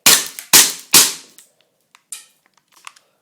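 Three loud, sharp shots from a KP-01 gun fire in quick succession about half a second apart, each with a short decaying tail, followed by faint scattered clicks and handling noises.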